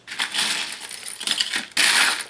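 Metal keys and small charms clatter and jingle continuously as a hand rummages through a box of craft supplies, loud and close, with a brighter burst of jangling near the end.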